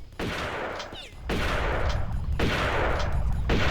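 Enemy gunfire in a Tomb Raider level set in Incan ruins: three loud, sharp shots spaced about a second apart, each with a ringing decay, against a constant rumbling background.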